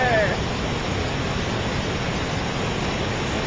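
A waterfall pours steadily as stream water goes over the falls, a dense, continuous broadband rush that holds at an even level throughout without a break.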